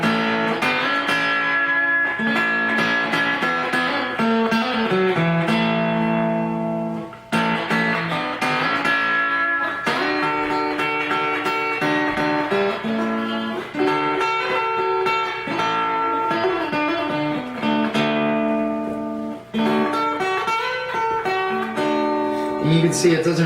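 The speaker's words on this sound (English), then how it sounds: "I'm gonna just use my guitar's volume knob to control the amount of distortion." An electric guitar played through a Winnie Fuzz pedal, with the distortion set by the guitar's volume knob, strums a steady run of fuzzy chords and notes with short pauses between phrases.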